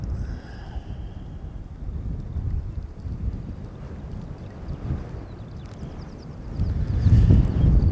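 Strong wind at an airport runway rumbles and buffets against the microphone in uneven gusts, swelling louder toward the end, with no talking.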